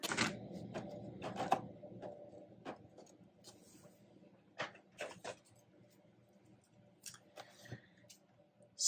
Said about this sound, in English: It has the papers here, which are notoriously tough to cut with a box cutter.